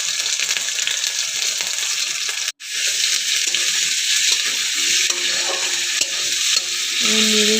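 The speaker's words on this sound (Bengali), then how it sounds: "নেড়ে চেড়ে নিয়ে একটু ভেজে নেবো আলুটাকে" Potatoes frying with ginger and garlic in a pan, a loud steady sizzle with a brief break partway through and the rustle of stirring throughout.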